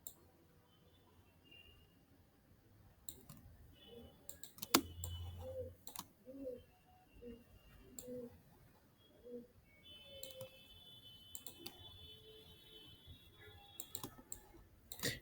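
A computer mouse clicks while the pen tool is used in design software, giving sparse, quiet clicks in an otherwise near-silent room.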